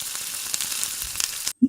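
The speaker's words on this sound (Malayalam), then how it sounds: "ചെറുതായി അരിഞ്ഞു വെച്ചിട്ടുള്ള 1 ടേബിൾ സ്പൂണ് വെളുത്തുള്ളി ഇതിലേക്ക് ചേർത്ത് നല്ലോണം ഒന്ന് കുക്ക് ചെയ്തെടുക്കുക." Chopped garlic frying in a pan for white sauce chicken pasta, a close crackling sizzle with small pops that cuts off abruptly, followed by a brief soft thud.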